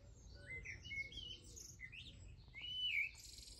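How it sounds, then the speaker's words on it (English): Small birds chirping outdoors on a warm spring day, several high, quick tweets and short trills scattered over a quiet low background, fairly faint and distant. "Wow, can you hear the birds?"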